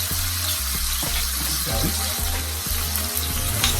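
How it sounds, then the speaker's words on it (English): Okra, carrots and chopped scotch bonnet pepper sauté in a pot for Jamaican brown stew fish, a loud steady sizzle broken by regular spoon knocks and scrapes against the pan, no speech. "Saute these for about 2 to 3 minutes, guys. I want to get them nicely soft, especially the carrots."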